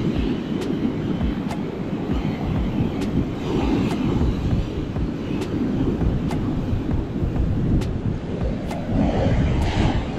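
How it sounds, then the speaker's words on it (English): Strong squall winds roar across a beach during pompano fishing, with rough surf crashing beneath as a continuous, loud, rumbling wash of wind and waves and no talking. "It is just so rough and windy that I can't even keep bait on there."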